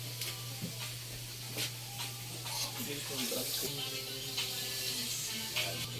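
Broth is poured into sautéed vegetables, a sloshing, sizzling pour with scattered clinks and stirring, fairly quiet over a steady low hum, with a voice heard faintly.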